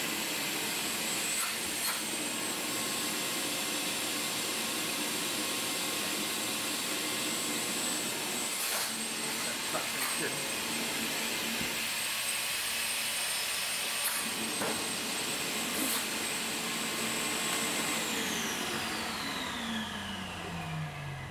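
A vacuum cleaner runs steadily through a suction test, a loud, constant high-pitched whine with faint knocks along the way, winding down in pitch near the end.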